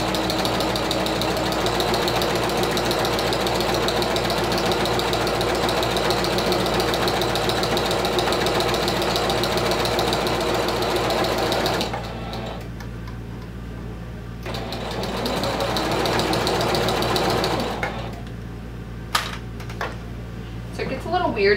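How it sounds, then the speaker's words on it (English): A domestic sewing machine stitching vinyl for a clutch wallet: a steady, loud, rapid mechanical chatter running for about twelve seconds, a short stop, then another run and a few brief starts, with a voice talking over it. "if you're working with vinyl that you use a longer stitch length"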